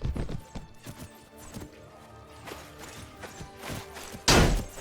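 Hooves clip-clop in a steady rhythm, followed by a loud horse whinny near the end, a game-like effect from Mount & Blade: Warband with no talking.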